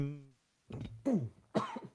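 A few close, harsh coughs in quick succession, loud and abrupt, following a brief voiced sound.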